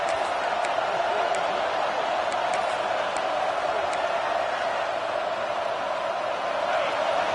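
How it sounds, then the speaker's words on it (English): A steady, unbroken roar from a stadium crowd in College Football 25 fills the background at an even level, with a commentator talking over it throughout. "Listen to this crowd just shaking the girders of this place, trying to help their defense."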